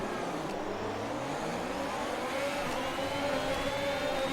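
Formula 1 cars launching off the grid at the Spanish Grand Prix in F1 2021, a dense, steady wash of engine whine, with several high-revving cars rising in pitch together.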